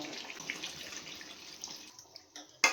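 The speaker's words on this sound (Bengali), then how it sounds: "আমি এর মধ্যে এবারে দেখো পরিমাণ মতো জল দিয়ে দেবো।" Water is poured into a pot of cooked-down chicken curry, a soft, faint trickling splash that ends with a brief clunk of the vessel.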